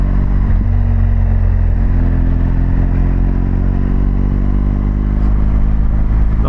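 A BMW GS Adventure motorcycle engine drones steadily while riding, a loud continuous low rumble with layered harmonics and a slight pitch shift early on, no voices over it.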